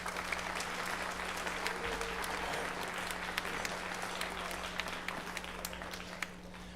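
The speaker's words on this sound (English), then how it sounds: "a nice round of applause for our 2 administrators" A large audience at a middle school spring band concert applauds steadily throughout, a dense continuous patter of clapping heard from within the room.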